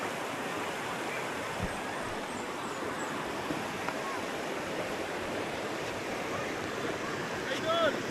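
A river runs with a steady, broad rush of flowing water that stays even and continuous, nearby and fairly loud, with a brief faint disturbance near the end.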